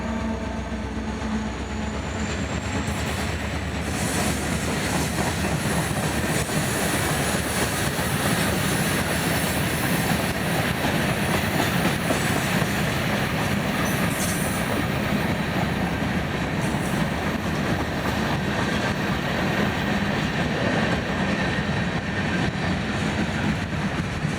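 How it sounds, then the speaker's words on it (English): A string of FEC railway locomotives passes close by with a loud, continuous rumble, rattling steel and wheel clatter that stays steady throughout. "Look at that array of locomotives."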